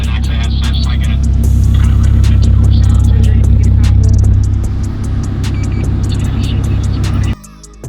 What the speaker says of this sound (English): you can hear that we have a walkie-talkie kind of sound thing